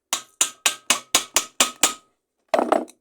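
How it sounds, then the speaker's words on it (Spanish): A hammer drives a nail into a small wooden block. Eight sharp, evenly spaced blows ring out close and loud, then there is a short pause and a final quick double knock. "así lo clavamos un cachito más"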